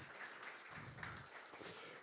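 Round of applause from a conference audience at a financial services data analytics and AI event, steady broadband clapping filling the room for about two seconds.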